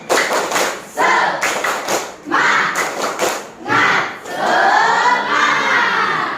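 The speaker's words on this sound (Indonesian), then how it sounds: "Ibu ingin ice breaking dulu buat kalian ya, dengan tepuk semangat" Schoolchildren perform a 'tepuk semangat' rhythmic clapping chant in a classroom, bursts of group clapping alternating with shouted chanting voices in short phrases, loud and close.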